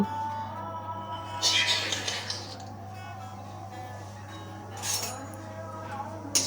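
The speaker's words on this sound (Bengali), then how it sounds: "কুমড়ো বড়িটা দিয়ে এবার একটু চামচ দিয়ে নাড়ানাড়ি করে নিচ্ছি, আর কি খুন্তি দিয়ে ভেজে নিচ্ছি কুমড়ো বড়িগুলোকে" Spatula or spoon clinks and scrapes in a wok as pumpkin bori fry in a little oil, a few short metallic taps over a steady low hum.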